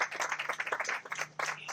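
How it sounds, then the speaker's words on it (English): Audience clapping at an outdoor groundbreaking ceremony, a steady patter of many hands close by with a slight dip near the end before picking up again. "join me in a nice round of applause"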